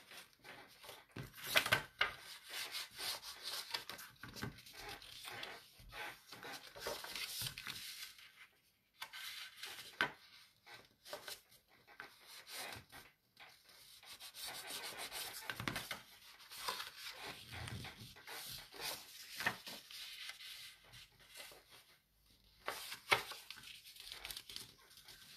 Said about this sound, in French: vous allez faire vos plis, marquez bien vos plis